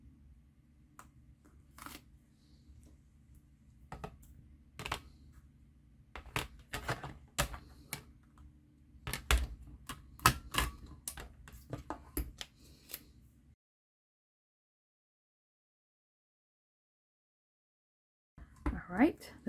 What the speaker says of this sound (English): So I'm going to stamp the little flower and the heart.